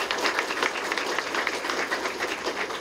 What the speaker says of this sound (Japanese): 拍手ありがとうございます